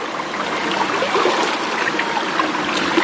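Mountain valley stream in Gangwon-do, a steady rushing and trickling of water over rocks, moderately loud and continuous, with no talking.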